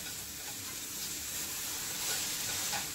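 A thick omelette with tomato, onion and green chilli fries in a pan with a quiet, steady sizzle and faint stirring or spatula scrapes, close and unbroken, with no voices.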